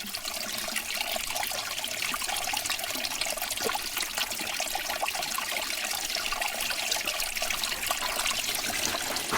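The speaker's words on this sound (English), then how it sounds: "You can hear the river running right behind me." River running at the bottom of the Grand Canyon: a steady, broad rushing of water, continuous and fairly close, with no pauses or other sounds over it.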